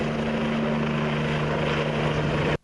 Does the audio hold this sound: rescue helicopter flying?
yes